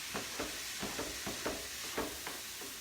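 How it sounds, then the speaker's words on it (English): Peppers and garlic stirred in a pot for spicy jambalaya, a soft scraping sizzle pulsing in a steady rhythm of about six strokes, close and fairly quiet with no talk. "Let me stir it up a little bit"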